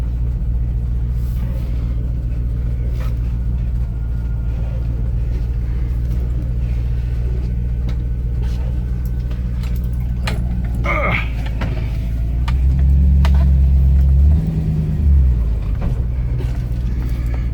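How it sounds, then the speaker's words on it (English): A 1972 Range Rover driven around the block, heard from inside as a steady low engine drone and road rumble, with the engine swelling louder under acceleration near the end and occasional cabin knocks. "it's difficult driving this car one-handed"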